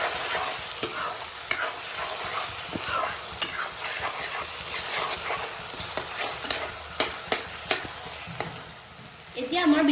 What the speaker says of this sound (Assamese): বিলাহীখিনি দি পেলাই আমি ভালদৰে ফ্ৰাই কৰি ল'ম